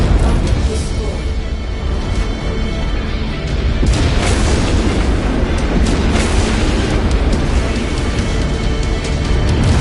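Heavy explosions of a destroyed mech in a combat video game, dense rumbling booms and bursts that fill the whole stretch at constant loudness, close and loud.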